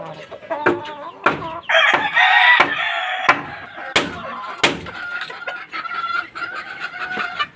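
Chickens cluck and a rooster crows inside a backyard coop, with repeated close clucks, a loud drawn-out crow in the middle and sharp knocking or banging sounds scattered throughout.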